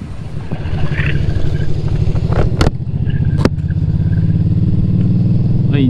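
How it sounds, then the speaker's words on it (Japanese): Motorcycle engines idle and rev at a crowded roadside rest stop in Chichibu during the Golden Week holidays, a loud, close, throbbing rumble with sharp clattering knocks, and one bike revs up. "めっちゃバイクいます。"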